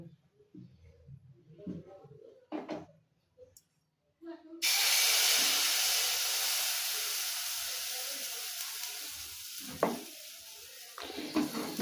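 Rice-flour batter for patishapta hits a hot oiled wok and bursts into a loud, steady sizzle and hiss that fades slowly, following a few quiet clinks and soft knocks.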